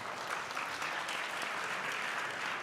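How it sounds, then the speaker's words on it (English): Sustained audience applause fills a conference hall at a directors and company secretaries conference, thanking the panelists with steady, dense clapping throughout and no speech. "A round of applause for our panelists."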